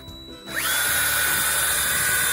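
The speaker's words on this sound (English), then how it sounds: "It's this little pump that attaches to your drill." A cordless drill spins up to drive a small self-priming water pump, a sharp rising whine settling into a loud, steady high-pitched drone with the pump's churning underneath.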